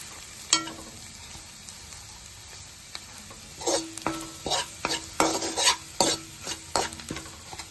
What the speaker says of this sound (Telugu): మనము పక్కన పెట్టుకున్న ఈ పూర్ణాలు వేసుకుందాము. వేసుకుని ఇలాగా కలుపుకోవాలి.